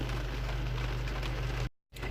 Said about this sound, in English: it is raining, and I don't like the rain